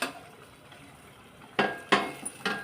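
Roasted onions drop into a pan of vegetable curry mixture in a home kitchen, three sharp metallic clatters and scrapes after a quiet stretch, each a brief loud burst of utensil on cookware.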